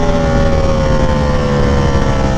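A 2022 Ducati Panigale V4S engine, which has been stuttering, runs loud and close, holding a steady, dense roar without obvious rises or breaks.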